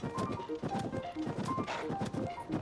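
A golden horse in the Tears of the Kingdom video game trots with a steady, continuous clip-clop of hooves, moderately loud, over soft game music and ambience.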